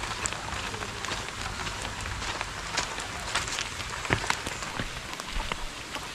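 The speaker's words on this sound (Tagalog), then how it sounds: "unti-unti nang lumalakas yung ulan" Steady, dense rain, gradually getting heavier, pours down onto a surface, a continuous hiss with scattered louder drops and splashes throughout.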